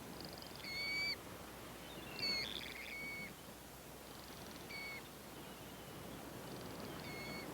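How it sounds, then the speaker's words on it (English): Several short, high whistling calls of pelicans and gray gulls in the Galapagos Islands ring out at intervals over a steady outdoor hiss, some louder bursts near the start and middle. "Pelicans, gray gulls, they're to be seen almost everywhere, and heard as well."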